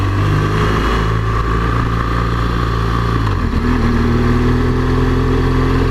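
A small 125cc motorbike passes close by: a loud, continuous engine drone whose pitch dips and then climbs as it goes past, with no pauses throughout.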